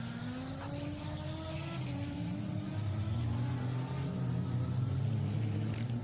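Hot Wheels toy cars racing down a plastic track, a continuous rolling whir and rumble with rising and falling pitch, steady and fairly close.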